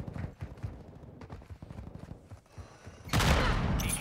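Video game decoy grenades imitating gunfire, with scattered popping shots and thuds that give way to a loud, sustained burst of rapid fire over the last second.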